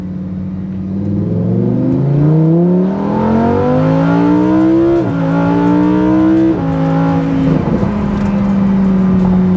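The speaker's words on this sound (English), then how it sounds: "I'm gonna switch it over into Corsa here. Give us a little more exhaust note" A Lamborghini Huracan EVO V10 with its exhaust set to Corsa mode, heard close and loud as it revs up through gears. Its rising tone drops at each shift, and it settles into a steady drone at the end.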